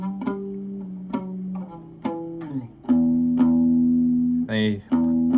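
Electric guitar riff, played high on the neck with picked notes struck twice and slides down the fretboard; close and clear, sparse, with a short scraping slide near the end.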